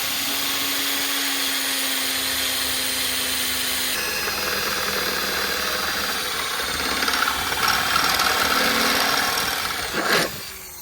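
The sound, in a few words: drilling a pilot hole through a radiator support panel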